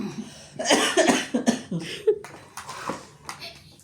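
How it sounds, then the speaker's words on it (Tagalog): A person coughs in several sharp bursts during a card game of tongits at home, mixed with clattering and brief voices in the room. "Inuubo na."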